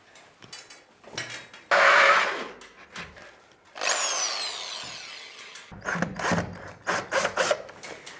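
Power tool with a hole saw cutting a socket box opening in wooden imitation-timber paneling over drywall, heard in several loud bursts of grinding and rasping against wood, separated by quieter handling and tapping noises.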